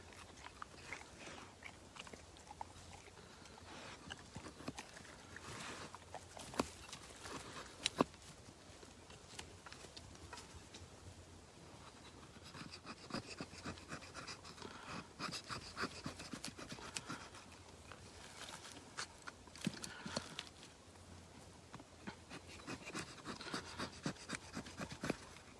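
An Esee JG5 knife scraping shavings off a piece of wood, producing quiet, close rasping strokes in irregular bursts with short pauses between cuts.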